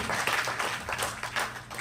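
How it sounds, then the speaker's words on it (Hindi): Steady applause from an audience at a poetry and music evening, a continuous wash of many hands clapping at moderate volume for a couple of seconds. "एक बार जोरदार तालियां"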